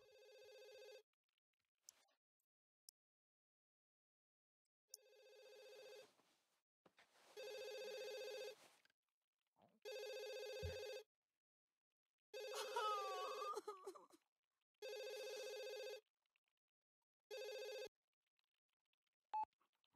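Telephone in The Sims 3 Pets game rings in repeated electronic bursts separated by silent gaps, with faint clicks and short game sounds in between.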